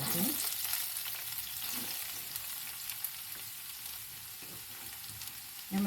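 Onions sizzling in a pan as the base for a cauliflower casserole, a steady soft crackle and hiss with occasional stirring scrapes, close and fairly quiet, no talking.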